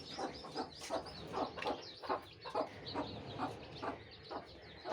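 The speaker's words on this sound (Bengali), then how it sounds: "আর আমার এই মুরগিগুলো অনেক শান্ত।" Hens in a chicken house cluck softly in a steady run of short, repeated calls, close by and fairly quiet, with no talking.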